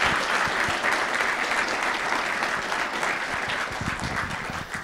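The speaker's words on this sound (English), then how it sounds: "Can we get a round of applause for them for doing such a fantastic job?" An audience at a university gender roles debate in Tennessee applauds the event security, with steady, dense clapping throughout that is close and loud, a few louder claps standing out, and no talking.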